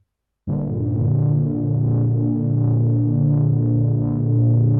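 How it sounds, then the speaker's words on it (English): A warm analog chord from a polyphonic Minimoog Model D synthesizer swells in after a brief silence and holds steady, thick and droning, with a slow pulsing throb throughout. "So here's a polyphonic Minimoog Model D, Minimoog Model D."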